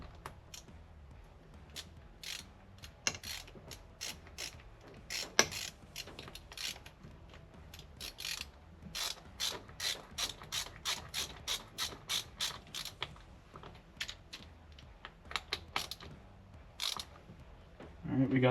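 A hand ratchet tightens a bolt on the adjuster plate of a Honda XR80 dirt bike, giving a long series of quick clicking strokes in bursts, close and fairly quiet, with pauses between runs.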